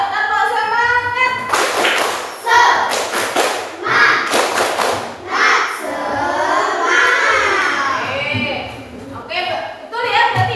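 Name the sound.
group doing rhythmic spirit clapping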